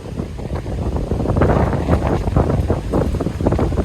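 Strong typhoon wind roars and buffets the microphone in a loud, continuous rush with gusty surges throughout, at a car campsite with an awning in Palauig, Zambales.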